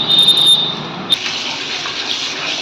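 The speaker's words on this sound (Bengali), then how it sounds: "এখন আমি চিকেনটা ভালো করে ধুয়ে নিচ্ছি" Tap water runs steadily into a sink while chicken is rinsed for UP-style biryani, opening with a few faint tones before a brief clatter gives way to an even rushing flow.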